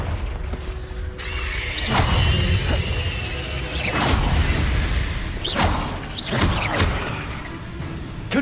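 Confringo fire spells cast during Hogwarts Legacy combat: repeated loud whooshing fiery blasts with booming impacts at irregular intervals, layered over a busy battle soundscape with no talk.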